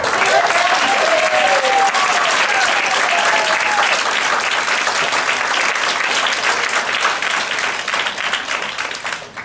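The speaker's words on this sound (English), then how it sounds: "Let's give these guys a round of applause." An audience at a business opportunity meeting breaks into loud, sustained applause, dense clapping that holds steady for several seconds before starting to thin out at the end.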